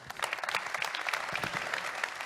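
Audience applause at an opening ceremony, a dense patter of many hands clapping steadily at moderate distance, with no talk over it.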